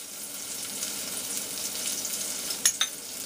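Salt pork browning in bacon grease, a steady soft sizzle with a couple of sharper spatter pops near the end, no talking.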